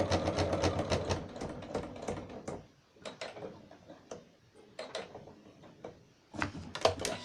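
Sewing machine stitching a makeup bag, running in fast rhythmic bursts with short pauses between runs as the fabric is turned and guided around the bottom edge.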